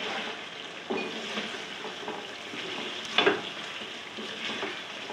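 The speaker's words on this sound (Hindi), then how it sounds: "अब चिकन को अच्छी तरह मैं भून लेती हूँ" Chicken pieces frying in a spiced masala for haleem, a continuous sizzle with scattered stirring scrapes and one sharper clatter near the end, close and without speech.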